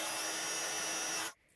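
Steady, loud blowing whoosh of a heat gun heat-embossing white powder on cardstock, a continuous hiss that cuts off sharply near the end.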